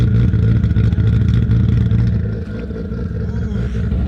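A 750-horsepower Toyota Supra with a big-turbo 2JZ engine idles loudly and close, a steady deep rumbling burble that eases slightly partway through, with no talking.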